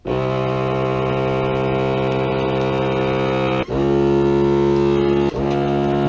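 A vacuum sealer runs while sealing a box of 20 Federal XM80C 7.62x51 149gr FMJ rifle cartridges: a steady, loud, droning motor hum that dips briefly twice near the end, with no talking.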